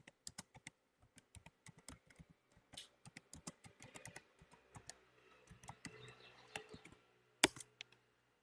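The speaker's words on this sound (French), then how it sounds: "je vais taper cette question" Typing a question on a computer keyboard, with a quick, uneven run of close key clicks and a few louder taps, no talk.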